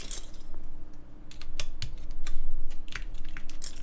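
Mechanical keyboard with MX Brown switches and DCS keycaps on a QK Neo60 copper build being typed on, a close run of crisp tactile clacks in uneven bursts over a low steady hum.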